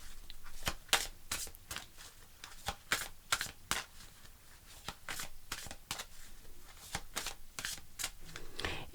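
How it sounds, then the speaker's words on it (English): Tarot cards shuffled for a fortune card reading, a close series of crisp riffling bursts and soft slaps repeating irregularly, with no talking over them. "I'm going to pull you a fortune card."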